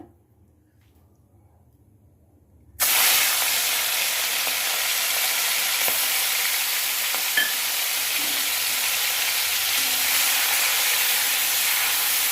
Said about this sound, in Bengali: এখন আমি সবার আগে ভেজে নেব চিংড়ি মাছটা